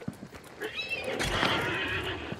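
A horse in the game Hunt: Showdown gives a close, clear whinny with a rising-then-falling whine, mixed with hoof clip-clops and some background game noise.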